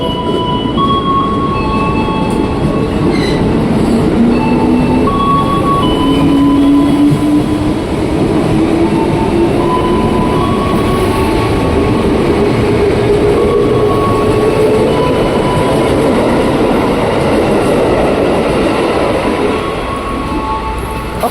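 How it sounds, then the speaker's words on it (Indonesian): A KRL commuter train pulls out of Cawang station at night, a loud, steady rumble of wheels and carriages with rising motor whine, squealing tones and rhythmic rail clicks heard close by, with no talking. "KRL Pion Depok sudah berangkat dari jalur 2 stasiun Cawang"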